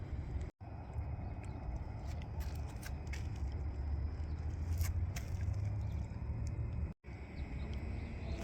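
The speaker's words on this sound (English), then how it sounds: "I hear some traffic." Low, steady hum of distant road traffic fills the background, a constant rumble with no distinct passing vehicles standing out.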